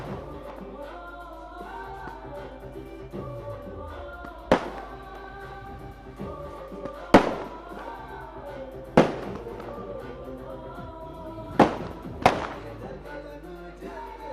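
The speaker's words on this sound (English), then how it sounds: "The fireworks begins all over." Fireworks celebrate at the Sahyadri cricket ground, with several sharp booming cracks spaced over a sustained tonal background of music or crowd noise.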